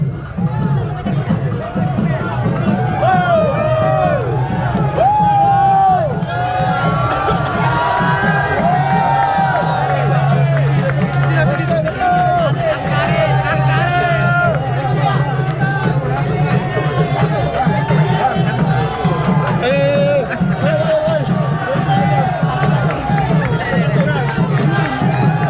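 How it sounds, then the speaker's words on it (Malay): A dense rally crowd at an Anwar Ibrahim political gathering in Bandar Baru Ampang cheers, shouts and claps without a break, a loud, steady roar of many voices filling the whole stretch. "Tepukan yang gemuruh."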